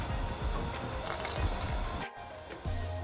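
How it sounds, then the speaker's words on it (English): Milk is added to pancake batter in a bowl, giving a continuous close, wet pouring and sloshing sound that briefly dips and then resumes. "keep on adding milk until it becomes a thick batter"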